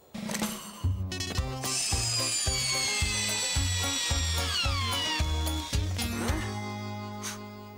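A cartoon drill from Bob the Builder whirs in a rapid series of pulsing bursts, with a sliding whistle-like tone sweeping downward over it, loud and up front with no talking.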